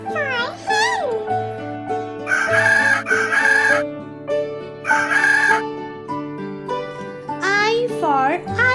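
A rooster crows several times in a loud, clear cock-a-doodle-doo in a children's alphabet song, with a voice and music around the calls.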